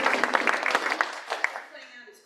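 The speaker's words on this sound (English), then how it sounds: "Let's give Sharon Kinnison a round of applause." Audience applause for a speaker at a community wellness talk, a brisk patter of clapping from a modest crowd that thins and fades out within a couple of seconds.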